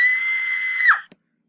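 A single sustained high-pitched scream held for about a second, close and loud, breaking off abruptly, followed by a brief short sound and then silence.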